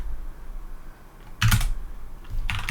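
Computer keyboard typing: two quick clusters of sharp key clicks, close and crisp, separated by a short pause, with no voices.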